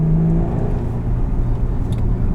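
A 2019 Porsche Cayenne S driving, heard from inside the cabin as a steady low engine drone and road hum, close and fairly loud, holding evenly throughout without talk.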